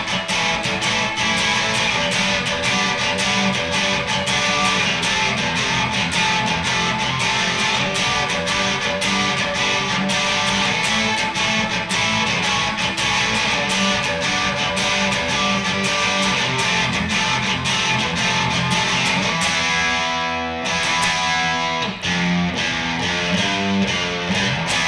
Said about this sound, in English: So the verse all the way through the chorus sounds like this.